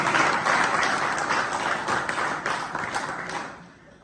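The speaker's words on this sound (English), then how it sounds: "Let's clap hands together." Audience applause at an open day gathering on a fish farming project, a dense steady clapping that fills the room and fades toward the end.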